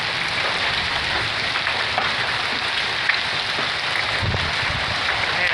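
Slushy hail from a spring storm on the Rockies Front Range streams from a gutter as an even, hissing downpour with a few faint knocks.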